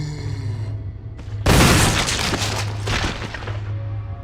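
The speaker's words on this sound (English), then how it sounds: "God, I love shotguns." A shotgun blast booms loudly in the Resident Evil video game, one heavy crack that rings out alone and decays over several seconds beneath a steady game soundscape.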